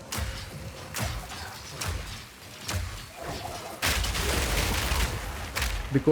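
Gas grenades ignite and burst in the action game Path of Exile 2, a run of muffled thumping blasts roughly every second, then a denser, louder stretch of overlapping explosions.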